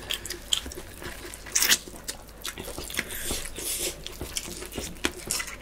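Spicy mutton curry being eaten in a mukbang, with close, wet chewing and crunchy biting sounds in an uneven rhythm.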